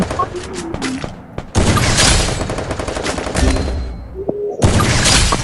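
Bursts of rapid gunfire from the Free Fire battle royale video game in its big-head mode crackle loudly in dense volleys, pausing briefly before resuming, with a few sharp single shots in between.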